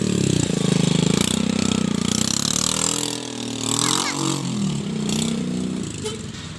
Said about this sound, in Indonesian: mobil pick up yang sedang mau ngambil susu